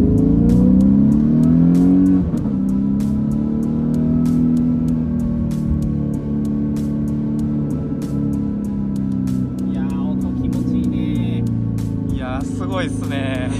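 A Ferrari F430 with a naturally aspirated engine and air suspension drives along, its engine humming and rising under steady load from inside the cabin, with a few short sounds near the end.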